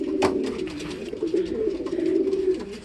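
Young pigeons coo continuously in their new cage, a low steady murmur of overlapping calls at close range with a sharp clatter near the start.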